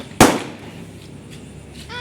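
A single sharp bidi bomb firecracker blast cracks out loudly near the start during Diwali, then fades into quiet outdoor ambience with a faint whistle-like tone at the end.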